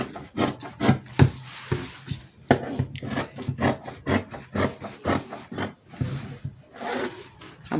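Excess fabric being cut away while shaping a spiral flounce. Irregular crisp snips and rustling bursts sound close, with short gaps between cuts and no voices.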